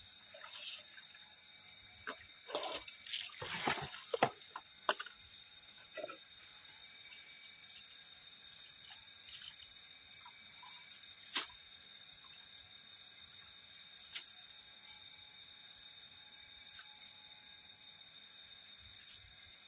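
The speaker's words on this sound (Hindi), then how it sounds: "मैं हमेशा संगवारी हो 3 से 4 बार धोता हूँ सब्जी वाला" Vegetable greens are washed by hand in water in a container, with scattered splashes and sloshing bursts clustered early on, then quieter occasional drips and movements over a steady background hum.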